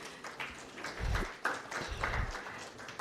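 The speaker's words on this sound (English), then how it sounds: "Please, a round of applause." Scattered applause from an audience welcoming a government spokesperson as a guest at a Kenyan panel event, soft and somewhat distant, lasting a few seconds.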